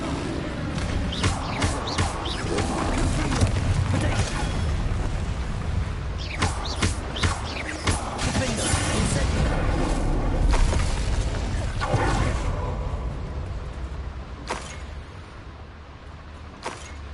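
Spell impacts from Bombarda and Confringo in Hogwarts Legacy, a series of sharp booming bursts and crackling hits scattered over a steady, loud backdrop of game effects.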